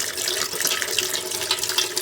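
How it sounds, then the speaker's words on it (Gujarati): Running tap water pours over soaked fenugreek seeds in a mesh strainer as they are rinsed after a day and night soaking in sour mango water, a steady broadband splashing rush throughout. "તો આવા જારીવાળા વાસણમાં આપણે ધોઈ કાઢવાની"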